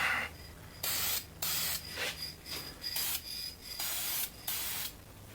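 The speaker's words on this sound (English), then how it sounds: "Just like the paint, we'll give her some nice light coats." Spray paint can hissing out light coats onto a car part, in a run of short bursts separated by brief pauses, close and steady with no voices.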